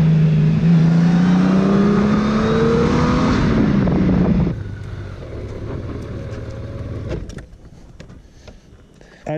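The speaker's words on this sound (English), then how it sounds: "Downshift again just to help the bike brake into the corner, and that really works well." Honda Goldwing motorcycle with automatic transmission ridden at speed, engine note loud and rising, then dropping sharply as it downshifts braking into a corner, settling to a quieter rumble with wind buffeting.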